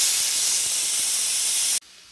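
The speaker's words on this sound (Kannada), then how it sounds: "ಸ್ಟೀಮೆಲ್ಲ ಹೊರಗಡೆ ಬಂತು" Steam hissing loudly and continuously from a pressure cooker, a broad close rush that cuts off abruptly near the end, leaving a quieter background.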